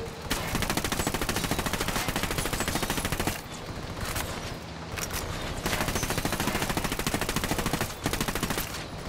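Sustained automatic gunfire from a Ghost Recon Wildlands firefight, dense rapid bursts loud and continuous with a brief lull midway before resuming, no talking.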